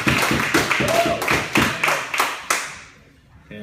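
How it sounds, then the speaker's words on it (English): A small audience at a drug awareness forum broadcast applauds in a few sparse, distinct claps at close range, fading out after about three seconds into quiet. "Let's have a round of applause for Eric."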